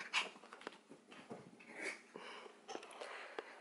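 A pet dog whines and whimpers excitedly in short, high, uneven bursts, close by and fairly faint, with no one talking.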